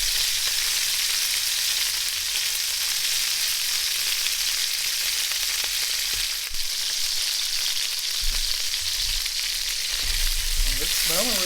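Chicken cooks in a pan for green chili chicken stew, sizzling and frying with a constant crackling hiss, near and steady throughout, with a few faint clinks near the end.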